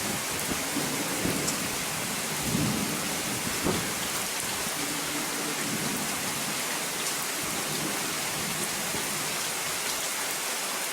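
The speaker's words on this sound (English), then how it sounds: "notice the rain's kind of coming straight down more now" Steady, dense rain pours straight down in a storm, with a low thunder rumble near the start, all loud and continuous with no voices.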